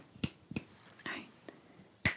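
Crisp, close finger snaps for ASMR, five in a little over two seconds at an uneven pace, with a soft rustle in between and faint whispered speech.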